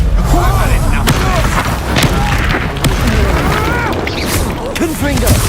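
Repeated booming fire-spell blasts in Hogwarts Legacy combat, loud and close, mixed with whooshing effects and voices talking over them.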